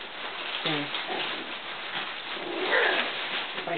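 A dog whines and gives short barks during a riding or training session, close and fairly loud, with a voice talking over parts of it.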